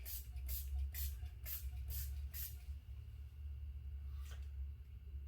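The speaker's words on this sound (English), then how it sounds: "Just spray the area around the hole." An activator accelerator is sprayed around a hole in a poly tank, giving six quick, even spray hisses in a steady rhythm and then one more after a pause, over a low rumbling background.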